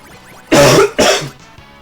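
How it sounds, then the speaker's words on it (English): Two loud, harsh coughs in quick succession, close to the microphone, with a quiet gap between them and no talking. "I coughed."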